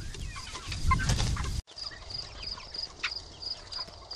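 Chickens on an urban micro farm cluck and call in a busy outdoor scene. A short sharp break comes midway, then a thinner stretch of bird sounds follows.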